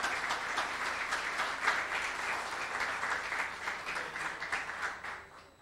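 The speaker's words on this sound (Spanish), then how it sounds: "a quien pido un fuerte aplauso para la maestra Elda Feliz" Sustained audience applause for a teacher at a community cultural event in Allende, many hands clapping steadily at moderate loudness for several seconds, dense and even, fading slightly at the end.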